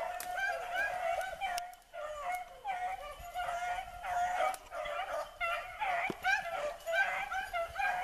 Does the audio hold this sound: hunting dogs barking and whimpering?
yes